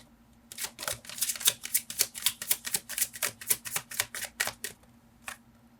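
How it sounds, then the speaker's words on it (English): Up close, a deck of tarot cards is handled while one card is drawn. About fifteen crisp flicking snaps come in a quick, steady rhythm, with no talking. "Let me get another card for emperor."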